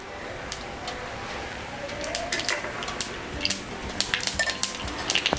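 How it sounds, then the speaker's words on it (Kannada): Mustard seeds splutter in hot oil in a pan while raw mango poha is cooked, with crackling pops that start sparse and grow quicker and denser toward the end, close up and fairly loud. "ಈಗ ಎಣ್ಣೆ ಕಾದಿದೆ, ಅದಕ್ಕೆ ನಾವು ಸಾಸಿವೆ ಹಾಕ್ಕೋತೀವಿ."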